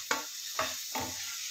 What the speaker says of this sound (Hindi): अभी इसको हम फ्राई करेंगे, इसको हम तब तक फ्राई करेंगे जब तक इसका कलर ना बदले।